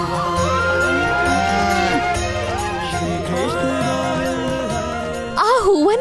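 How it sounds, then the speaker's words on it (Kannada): Cattle low steadily and close over a layered musical background in a devotional TV drama scene, with a louder, wavering bellow near the end. "ಆ ದನಗಳನ್ನ ನೋಡಿದ್ಯಾ?"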